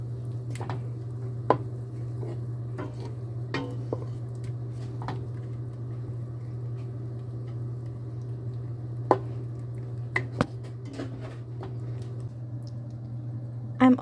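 Spoon stirring coconut milk into curried mushrooms in a pot, soft scattered wet scrapes and clinks over a constant low hum, close and quiet, no voices.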